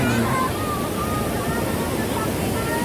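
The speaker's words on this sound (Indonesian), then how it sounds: "Ini ada aliran sungai yang membendung menjadi irigasi dengan air yang deras" Rushing river water pours steadily through a weir into an irrigation channel in the rural village of Kampung Naga, Tasikmalaya, forming a loud, continuous broadband roar that holds without a break from start to end.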